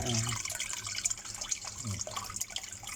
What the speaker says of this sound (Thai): นี่ผมเปิดน้ำอันนี้ไว้อยู่นะ